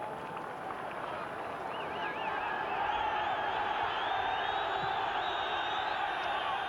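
An Irish football crowd at a Northern Ireland v England match roars and shouts at the referee over a substitute, a steady, dense wall of voices with whoops rising over it throughout.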